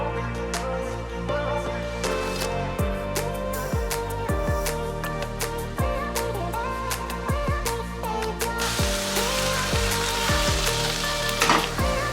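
Garlic sizzles and crackles in a pan with softened vegetables for a vegan casserole, a steady close frying hiss broken by repeated stirring knocks and scrapes, growing brighter and louder toward the end.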